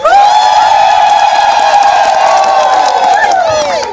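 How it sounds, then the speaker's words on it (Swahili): Crowd at an outdoor campaign rally in Mgodechi cheering loudly, with sustained wavering high calls like ululation or whistling running steadily through the whole stretch. "naomba wananchi wote wa mtaa Mgodechi popote mlipo mpunge mikono, mpige makofi mengi mengi"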